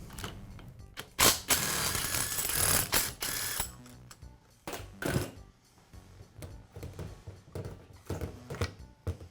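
Four bolts are loosened with a ratchet to take the barrel off the gearbox of a Makita demolition hammer under repair. Close, irregular bursts of ratcheting clicks and metallic handling noises come with short pauses between them, and no one speaks.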